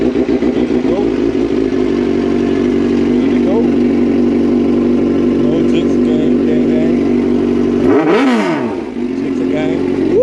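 A motorcycle engine runs at a loud, steady idle close by, then revs sharply near the end before settling, with a voice speaking over the engine at times.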